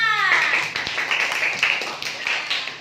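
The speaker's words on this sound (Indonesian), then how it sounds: "Beri tepuk tangan buat Dea." A class of sixth-grade pupils claps together in a classroom, a brisk patter of many hands fading after a couple of seconds, with a teacher's voice speaking over the start.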